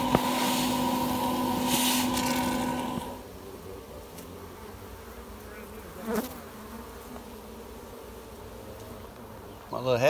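Bees from a massive hive under a church buzz loudly and steadily up close for a few seconds, then fade to a fainter background hum with scattered bumps and scrapes.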